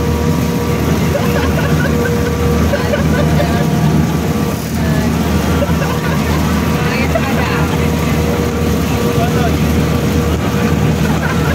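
An Alimak construction hoist lift running, a loud, steady motor drone and rumble with constant mechanical hum, close and continuous throughout with little variation.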